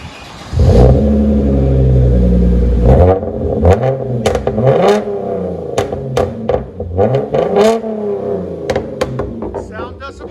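A 2015 Hyundai Genesis Coupe engine revs hard through a dual exhaust with muffler delete in a loud, sustained roar, then blips repeatedly in short bursts, close by and deep-toned, around 114-115 decibels.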